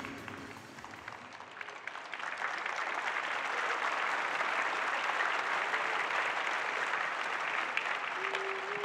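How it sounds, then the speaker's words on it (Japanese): A crowd applauds a newly crowned women's pro-wrestling champion at a Stardom event in Ryogoku, clapping starting moderately and swelling into dense, sustained applause throughout the hall. "今一度大きな拍手をお願いいたします"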